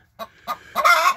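A broody hen that has just been moved off her eggs clucks close by in a coop, giving two short clucks and then a longer, agitated, drawn-out squawk.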